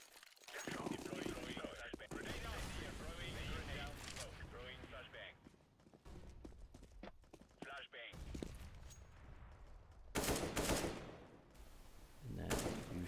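Gunfire from pistol rounds in a Counter-Strike: Global Offensive match, several bursts of shots and sharp impacts spread across the stretch, loud and close, mixed with other game noise and some talking.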